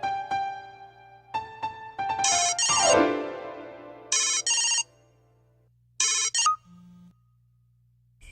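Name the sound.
phone ringtone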